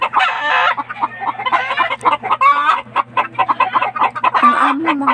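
Caged hybrid chickens cluck and squawk close by in a busy, overlapping chorus of short calls that continues without a break.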